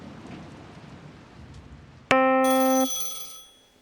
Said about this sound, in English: Always a ringing phone.